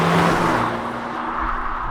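A Honda Type R driving on a smooth B-road, its engine and tyre roar loud and close, steady at first and easing off slightly, with no talking.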